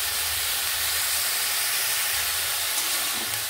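Mixed vegetables with salt and turmeric fry in a pan, giving a loud, steady, close broadband hiss of sizzling oil throughout without talk.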